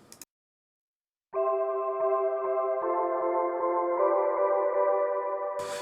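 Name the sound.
synthesizer pad sound in Ableton Live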